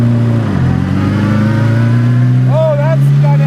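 A 1927 Bugatti Type 51 engine drones steadily at low pitch while driving, its tone rising slightly as it revs, heard up close under people talking.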